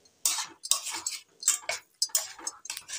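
Utensil scraping and stirring in a pan while an old-style village vegetarian kendu dorma is sautéed, giving irregular close clatter and scrapes in short bursts with brief pauses, no voices.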